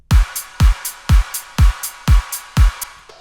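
A punchier electronic drum loop with heavy booming kicks and crisp noisy snare-like hits, repeating steadily with bright hi-hat accents between them.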